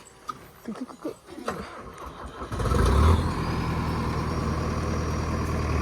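At a house construction site, a truck engine rumbles into life after a short stretch of muffled talk, then runs on in a steady, loud, low drone as the vehicle is manoeuvred.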